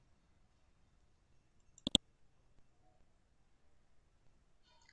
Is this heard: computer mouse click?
yes